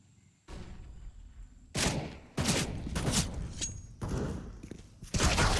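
AK rifle fire in a Counter-Strike match on the Ancient map comes as several sharp bursts of shots separated by short gaps, loud and close over quiet background.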